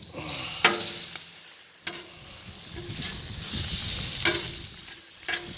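Diced potatoes and sausage links sizzle steadily on a Blackstone griddle, with a constant frying hiss and a few sharp clicks and scrapes of a spatula, close and clear with no talking.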